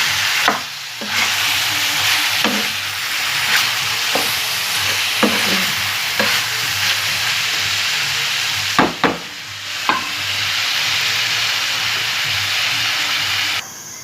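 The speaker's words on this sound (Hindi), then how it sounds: "दो मिनट के लिए मैं पकने दे रही हूँ।" Mixed vegetables and tomatoes fry in a karahi, dhaba style, with a steady loud sizzle throughout, broken by repeated scraping stirs and a few clinks of a spoon against the pan.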